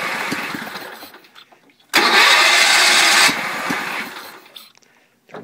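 A 1974 Sears Suburban SS16 garden tractor engine, with one cylinder not firing, tries to start: a loud cranking burst lasting over a second, then a sputtering run that fades and dies, heard up close.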